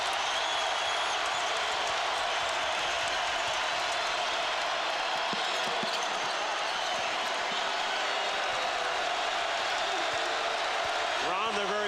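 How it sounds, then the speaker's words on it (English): A basketball arena crowd at a college game between Iowa State and Kansas roars loudly and steadily, with a sustained cheer filling the space throughout. "here comes the crowd again."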